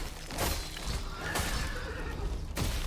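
A horse neighs loudly and repeatedly in the Wuchang: Fallen Feathers video game, its whinnies coming in quick bursts amid clip-clop hoof sounds and combat noise.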